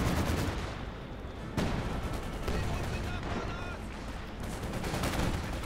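A Maxim machine gun fires in a Company of Heroes 2 match, with dense, loud bursts of gunfire and heavy battlefield booms layered continuously throughout.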